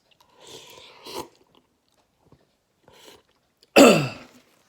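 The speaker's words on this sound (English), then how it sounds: "That coughing did not do me well, though." A person eating spicy Samyang stew lets out one sharp, loud cough near the end, after quieter eating noises and a brief throat sound earlier, with near-silent gaps between.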